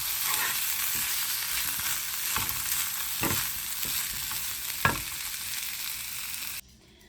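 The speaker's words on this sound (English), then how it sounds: "Give it all a good mix." Chopped meat being mixed with pickle juice in a hot pan for a chopped cheese sandwich: constant sizzling with several clear scraping strokes of a spatula, close, then a sudden drop to quiet at the end, no talking.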